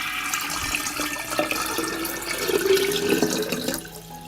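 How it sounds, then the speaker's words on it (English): Lukewarm water pours into a jug in a steady, moderately loud splashing trickle that rises slightly in pitch as the jug fills, with no talking. "I will pour a liter of lukewarm water into the jug."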